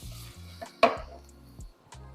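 A soft thud of a burger patty placed into a frying pan with a brief clink of cookware, in a quiet kitchen.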